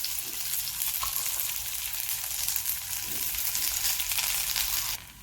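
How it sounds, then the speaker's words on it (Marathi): Okra roasting in oil with turmeric in a hot pan, a loud, dense, continuous crackling sizzle close up with a few soft stirring bumps, easing slightly in the final moment; no voices. "आपण भेंडी भाजत असताना ही हळद घालत आहोत आपली भेंडी भाजत आहे"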